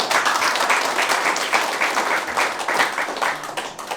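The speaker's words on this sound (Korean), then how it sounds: "동의한다고 큰 박수 한번 주세요" An audience at a provincial governor candidate's campaign office opening bursts into loud, sustained applause, dense clapping continuing for several seconds.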